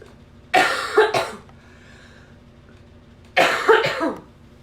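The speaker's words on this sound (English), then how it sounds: "I'm so sorry, y'all, if that coughing's loud in the video." Two loud coughing fits, each a quick burst of two or three harsh coughs, close to the listener and separated by a couple of seconds of quiet.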